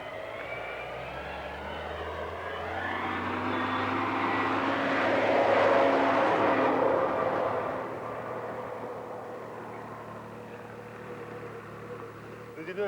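A vehicle on a quiet Yorkshire country road approaches and recedes, its engine drone building to a peak and fading away, with faint voices around it.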